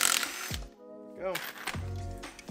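Brief whir of a power tool spinning a 16 millimeter nut loose on a coilover shock held with a vise grip, during a Mk5 GTI lowering job, heard in short bursts amid voices and shop noise.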